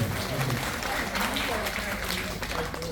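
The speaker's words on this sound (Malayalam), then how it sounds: "ഓണം കളറാക്കാൻ എല്ലാവരും ദുഷാറിന്റെ കൈയടിച്ചു തന്നെ" A crowd at an Onam celebration claps together in sustained applause, steady and fairly loud for a few seconds, with voices mixed in.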